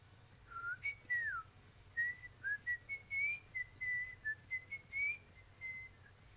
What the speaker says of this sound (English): That probably sounds horrible for you, the whistling.